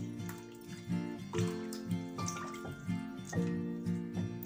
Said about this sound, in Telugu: టెంకాయ పాలు ఎంత వచ్చేసింది ఇలా ఫిల్టర్ చేసుకోవాలి